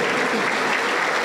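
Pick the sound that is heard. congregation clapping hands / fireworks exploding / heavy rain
congregation clapping hands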